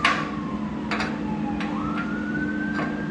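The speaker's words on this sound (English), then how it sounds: "there's an ambulance going by" An ambulance siren wails at a distance in a residential area near a hospital, a steady rising and falling tone under a low continuous hum, with a few faint clicks and no speech.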